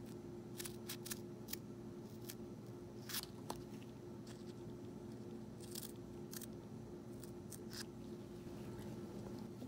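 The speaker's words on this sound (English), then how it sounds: "what I'm going to do is cut a piece out" Scissors cutting a piece out of a fiberglass-like material, producing a series of faint, crisp snipping crunches in irregular clusters over a low steady hum.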